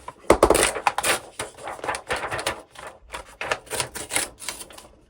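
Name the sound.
tearing a large sheet of paper for journal pages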